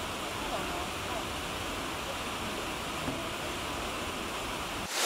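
Water splashing and rushing at the Trevi Fountain in Rome, a dense continuous wash of spray that stays steady and fairly loud, with faint crowd murmur beneath and an abrupt cut at the end.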